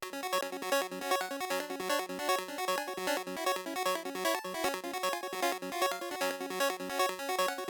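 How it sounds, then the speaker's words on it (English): Two interlocking synth arpeggios, one cycling three notes against another cycling four, play together in a steady, busy pattern of bright plucked tones with no voices. "We have just a 3-note arpeggio going against a 4-note arpeggio"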